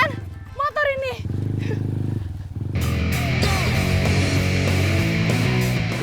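A motorcycle labours along a muddy dirt track with a rough, rumbling engine drone that grows fuller partway through, mostly under someone talking.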